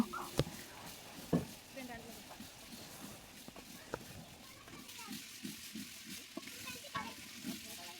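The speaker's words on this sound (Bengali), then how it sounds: "মুগ ডালটা একটু ভেজে নিলাম মশলার সঙ্গে" Mung dal is fried and stirred with spices in a pan, producing a soft, low sizzle with scattered scraping knocks from stirring, fairly quiet and continuous throughout.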